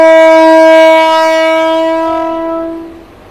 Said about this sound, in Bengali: এই ট্রেনটা ছেড়ে দিল